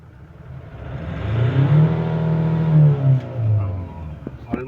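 A 2021 Ford Ranger Raptor engine revs up from idle toward about 5,000 RPM, swelling into a loud rising whine that holds, dips and surges again before dropping back, close by with no talk over it.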